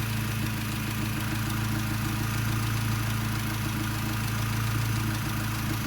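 A 1990 Acura Integra engine idling, a steady low rumble with a continuous drone that runs unbroken and fairly loud throughout, with no talk.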